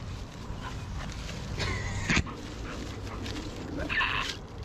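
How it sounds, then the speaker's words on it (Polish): A dog plays with people during a bicycle unboxing, giving faint barks and small whimpering yips under room noise and handling sounds. "Dobra, Sebuś tutaj z psem się zabawia"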